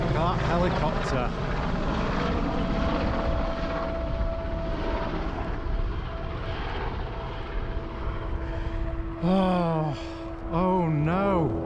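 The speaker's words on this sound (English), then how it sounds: "That helicopter." A helicopter flies over a carp fishing lake at a spring fishery, its steady engine and rotor drone filling the scene under excited talk and shouts from nearby anglers.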